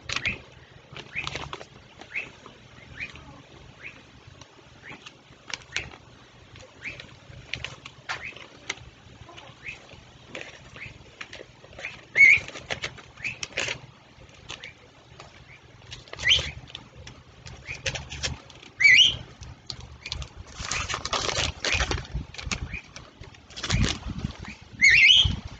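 Pet bird indoors, close by, with repeated bursts of fluttering wing flaps and scattered short chirps, alongside light tapping and rustling from paper and craft handling.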